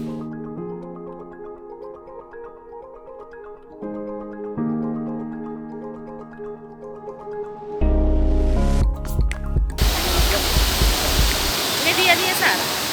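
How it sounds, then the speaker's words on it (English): Rushing water from waterfalls in Kieni Forest pours in as a loud broad roar in the last few seconds, preceded by tonal music-like sounds. "Can you hear the sound of the waterfalls?"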